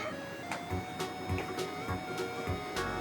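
A photo printer printing a picture, giving a quiet mechanical whir broken by soft rhythmic clicks and thumps repeating roughly every half second, close by and with no voices.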